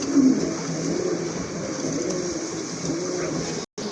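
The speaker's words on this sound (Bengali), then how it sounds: "এটা হচ্ছে আপনার রেড চেকার রেসার কবুতর" A red checker racer pigeon coos softly in a low, rolling pattern over a steady hum of background noise, with a brief dropout near the end.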